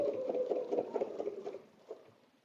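A sewing machine runs in a steady, fast stitching rhythm while quilting along a template on a butterfly bed runner, fairly close and alone, then slows and fades away near the end.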